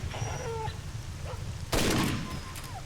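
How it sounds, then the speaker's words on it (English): In the video game S.T.A.L.K.E.R.: Shadow of Chernobyl, a single sharp burst of gunfire cracks out suddenly midway, loud and close, after a stretch of low rumbling storm ambience with faint chirps. "I hear gunshots."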